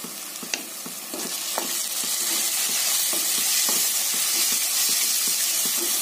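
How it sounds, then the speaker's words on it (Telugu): Chili powder, coriander powder and garam masala fry in a pan for egg masala pulusu. A steady loud sizzling hiss carries throughout, broken by regular spoon scrapes and taps as the mixture is stirred. "ఇది మొత్తం బాగా ఫ్రై అయ్యి పచ్చివాసన పోయే వరకు ఫ్రై చేసుకోవాలి."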